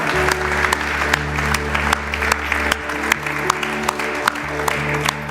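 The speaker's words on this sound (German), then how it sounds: "Komm, lass uns dem Herrn Jesus einen riesigen Applaus geben" Congregation clapping during an evening church prayer service, a steady wash of applause over a low sustained musical drone, with sharp individual claps standing out periodically.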